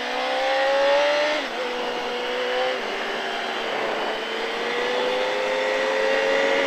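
A motorcycle engine on a race track at Le Vigeant revs up and holds a high, droning whine, its pitch climbing steadily as the bike accelerates, loud and close throughout.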